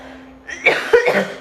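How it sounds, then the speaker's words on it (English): A person with a slight cold gives a couple of close, short coughs in quick succession after a quiet moment. "I do have a little cold here, so I feel like I need to cough"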